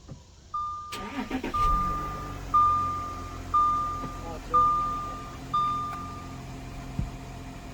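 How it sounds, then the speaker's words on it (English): An Audi Q7 TDI diesel engine cranks and catches, then settles into a steady low idle after an oil flush with an additive. A series of evenly spaced electronic chime tones repeats over the running engine. "We're gonna run the car for about 15 minutes"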